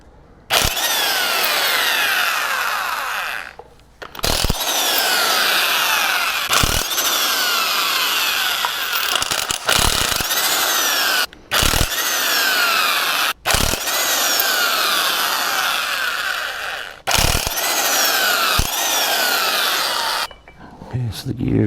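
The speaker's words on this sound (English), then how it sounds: "So we're going to remove all these bolts." Loud power tool bursts, likely an impact wrench or drill, working the bolts off a Camaro/Trans Am rear axle gear, running in long whirring stretches of several seconds broken by short pauses, close up with brief talk between.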